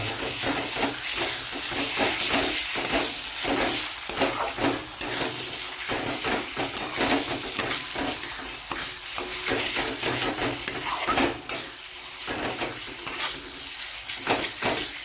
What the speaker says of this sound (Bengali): এবার সম্পূর্ণ মশলাটাকে একটু কিছুক্ষণ ভাজবো